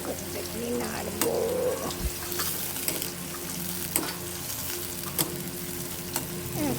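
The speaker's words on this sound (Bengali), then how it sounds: "দেখেছ পেঁয়াজ কুচি, দেখো নাড়বো।" Chopped onions sizzle in hot oil while being stirred in a pan, a steady close frying hiss broken by occasional scraping knocks of the utensil.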